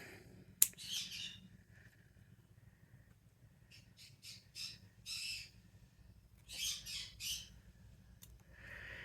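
A pet bird squawks in bursts, several harsh screechy calls in two clusters against a quiet room with a low background hum, fairly close.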